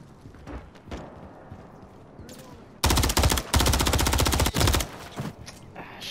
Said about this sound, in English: I don't know why I tried taking him out with an SMG